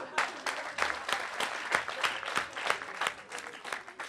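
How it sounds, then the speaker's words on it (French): Dense applause from an audience, a steady patter of many hands clapping throughout. "Si vous commencez à applaudir tout le temps, on va jamais commencer."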